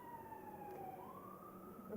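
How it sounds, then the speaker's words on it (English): A faint emergency siren wails in the distance, its tone sliding down and back up as it goes by beneath a quiet indoor room hum. "the Yeah. sirens going by."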